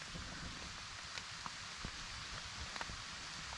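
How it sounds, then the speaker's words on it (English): Light rain patters on a poncho shelter in the woods, a soft, even hiss with scattered drop ticks, faint and close, with no voices. "But it just sounds so pretty out here, just to hear the rain."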